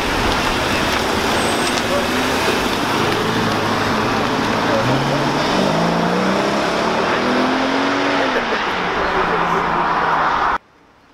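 Cars accelerate hard past the crowd at a Cars & Coffee meet outside McLaren Boston, with loud roaring engines, rising revs and shifting tones over continuous traffic rumble and crowd chatter, cutting off abruptly at the end.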